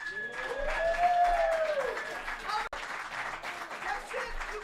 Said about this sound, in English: look at that round of applause, too